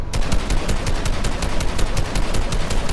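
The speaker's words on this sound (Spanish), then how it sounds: "Solo necesitaba dar unos cuantos tiros" Rapid bursts of automatic gunfire in the Fortnite video game, a dense stream of sharp repeated shots fired close and loud with no talk over them.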